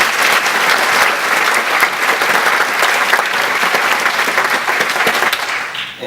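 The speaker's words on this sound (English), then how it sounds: "So please give him a round of applause." A live lecture crowd gives a producer a long, loud round of applause, dense clapping close and steady for several seconds before tapering at the very end, with no talking.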